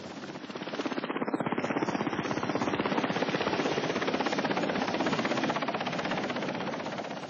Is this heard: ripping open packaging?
no